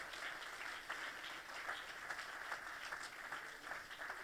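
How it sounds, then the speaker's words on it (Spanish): A church congregation claps together in steady, continuous applause during a sermon, heard somewhat distant and evenly sustained throughout. "Dale ese aplauso fuerte al Señor."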